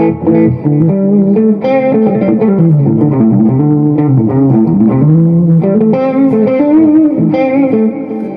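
Continuous electric guitar playing through a Spark 40 amp on the Blackface model, a cleaner tone with light drive and reverb, moving chord and note phrases at steady loudness from start to finish without speech.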